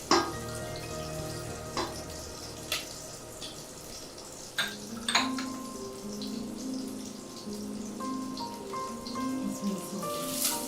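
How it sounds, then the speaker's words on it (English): Biryani simmering in a pot gives off soft bubbling and intermittent pops and clicks, fairly quiet and close, with occasional light kitchen knocks. "Give it a simmer, wait for a minute or two."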